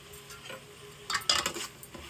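A spoon scrapes and clinks as masala is stirred in a pan, a few quiet, brief strokes close by, with a soft background hiss and no talking.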